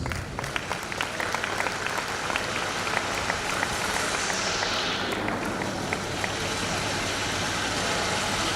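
An audience at the 2022 Oyo State Productivity Day merit award ceremony claps continuously, a dense steady patter of many hands filling the room, with a voice over a loudspeaker briefly heard beneath.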